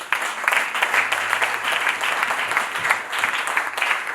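A church congregation claps together in a dense, continuous round of applause, loud and close, with no voices rising above it.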